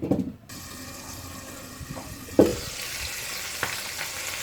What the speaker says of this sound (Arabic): ها هو الطاجين ديالنا كيتشحر مع هاد الزيت وهاد اللحم